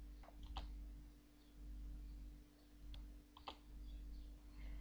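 Typing on a computer keyboard to enter a command in a text-based MUD game: a few quiet, sharp key clicks in small scattered bursts over a low, steady electrical hum.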